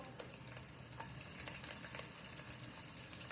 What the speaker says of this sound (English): stir fry a little bit